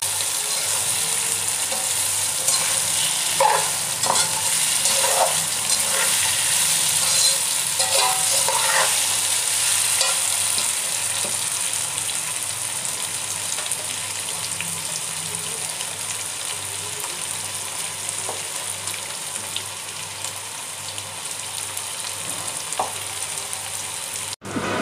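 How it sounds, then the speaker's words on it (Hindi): Potatoes fry and sizzle in a pan with steady crackling, broken by occasional scrapes and clinks of a spoon stirring them, close up and continuous throughout with no talking. "आलूओं को भूनूँगी।"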